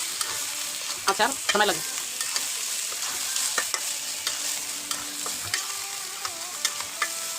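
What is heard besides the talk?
stirring Bombay chili pickle in a pan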